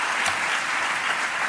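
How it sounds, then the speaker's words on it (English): Steady applause from an audience, many hands clapping together at an even level throughout. "Let's give one more round of applause for our performance"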